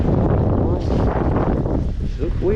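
Wind blows across a winter lake while bass fishing with a crankbait from a boat on Lake Norman, a steady rumbling buffet on the microphone throughout with a voice talking over it.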